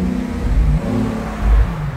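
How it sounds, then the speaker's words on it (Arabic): A white Rolls-Royce Cullinan fitted with a Kivanc exhaust revs nearby, its loud deep engine note rising and falling in two strong surges over a steady low idle. "دي رولز رويس كولينن كيفاني، الوحيدة البيضة اللي في مصر عليها شكمان"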